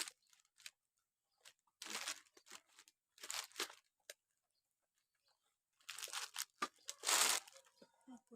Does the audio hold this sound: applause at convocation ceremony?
no